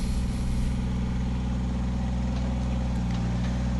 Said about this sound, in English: Bring the tractor over.